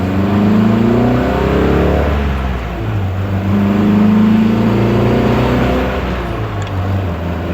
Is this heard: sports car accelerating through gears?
yes